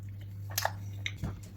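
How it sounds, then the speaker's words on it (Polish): Someone takes a first bite of food spread with Madero ketchup, then a few soft, close chewing and squishing sounds in quick bursts over a low steady hum, with no talking. "No i pierwszy gryz."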